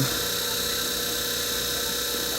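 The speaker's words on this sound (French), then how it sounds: "il y a déjà un petit trou où je peux venir percer" A small rotary drill whines steadily as it bores into a gemstone at an existing small hole, a continuous high-pitched tone held at even loudness without talk.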